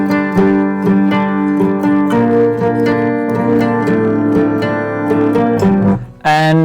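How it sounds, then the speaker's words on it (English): A plucked mandolin and acoustic guitar play a layered riff that opens a song, with bright, steady picking sustained throughout and a brief sharp shift in the final half second. "The song starts with this mandolin and acoustic guitar riff, which sounds something like this."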